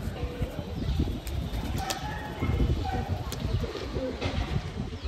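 Pigeons coo softly in low, rolling murmurs over a busy, noisy outdoor background, with occasional higher chirps.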